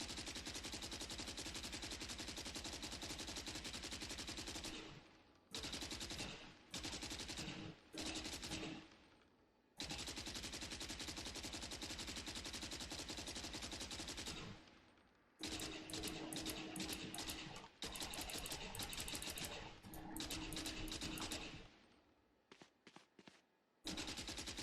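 Silenced Phantom assault rifle in Valorant firing in sustained automatic bursts, a dense crackling rattle broken by several short pauses and quick taps near the end, loud and close with no talk.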